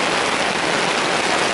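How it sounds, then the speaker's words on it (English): Heavy rain pours steadily onto a small DIY tarp shelter in a wooded gorge, a dense, continuous hiss and patter drumming close overhead with no pauses. "And it's raining buckets, and we're staying high and dry, aren't we?"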